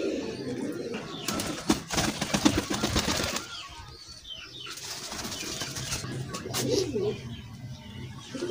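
Sialkoti pigeons coo in soft, repeated throaty bursts at close range, mixed with wing flaps and shuffling noise, with a brief pause before the cooing resumes.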